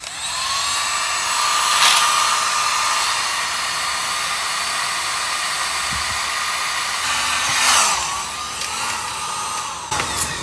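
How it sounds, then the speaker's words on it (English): Heat gun melting solder during work on a Pontiac engine and fuel tank, a steady close-up blowing hiss with a high whine, briefly dipping and surging, running alone without talk for about ten seconds. "Heat gun."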